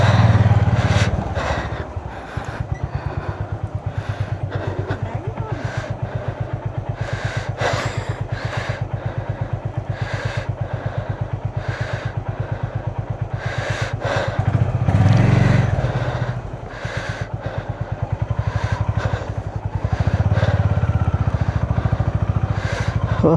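A motorcycle on a road trip from Delhi toward Shimla and Spiti Valley runs close and loud, its engine thrumming in a steady, fast-pulsing beat that swells and eases, with sharp wind buffets breaking in throughout.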